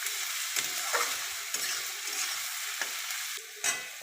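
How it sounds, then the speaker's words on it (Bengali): Chopped onions fry with cumin seeds and bay leaves in hot fat, a continuous close sizzle broken by repeated scraping stirs of a spatula through the pan. "সব ভেজে নিচ্ছি।"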